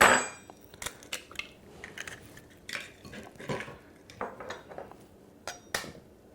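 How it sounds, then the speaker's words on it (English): Eggs are cracked and opened into a bowl for French toast, a series of sharp close taps and clicks against the rim spaced irregularly, with small clinks of shell and dishware in a quiet room. "We're going to go ahead and start by opening our eggs."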